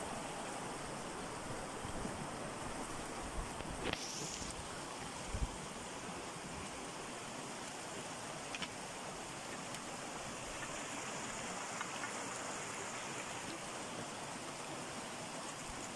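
Water in a stream beside a walking path near the reed beds of Eber Lake makes a steady, soft, broadband rush. It continues evenly and fairly faint throughout, with no voices.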